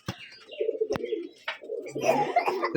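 Rajshahi Giribaz pigeons in a loft give soft, close cooing murmurs in short overlapping bursts over a few seconds.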